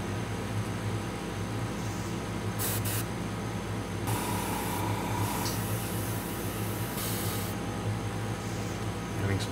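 Spray painting the underside of a Su-35 scale model gives a steady, close hiss of spray that runs without a break, with a few short, sharper bursts of airflow layered on top.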